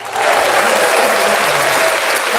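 A canned applause sound effect plays on cue during a talk show, starting abruptly and holding as a loud, dense, even roar of crowd clapping with no voices over it.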